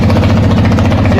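A 1981 Yamaha XS850 Special motorcycle engine running with its exhaust tips missing, a loud, close, steady low rumble with a throbbing idle pulse and no pauses.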